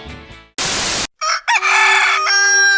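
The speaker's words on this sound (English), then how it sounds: "Are you tired of that pesky rooster waking you up in the morning?" A rooster crows loudly and close in a comedy commercial, a drawn-out harmonic call that follows a sharp burst of noise, with nothing else heard beneath it.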